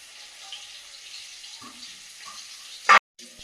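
Greens and potatoes frying in a pan on the stove give a steady, low sizzle throughout, with a few soft clinks and a brief louder clatter near the end.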